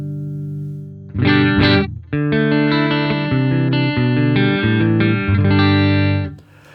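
Distorted electric guitar through a Lava Studio amp modeler plays a few chords, then sustains a run of overdriven notes and chords before ringing out; no talking.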